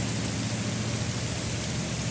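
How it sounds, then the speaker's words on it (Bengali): Heavy rain falls in a dense, unbroken hiss that stays loud and even, with no separate drops or voices standing out. "অনেক বৃষ্টি হলো কি চমৎকার বৃষ্টি"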